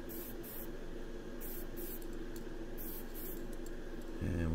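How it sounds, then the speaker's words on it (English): Molotow spray can laying down a light first coat of Mad Sea Psycho Pink paint on a 1934 Ford three-window coupe, a steady close hiss that carries unbroken for several seconds before a brief louder burst at the end. "The Molotow spray can with the Mad Sea Psycho Pink is the shade that I've chosen to go with."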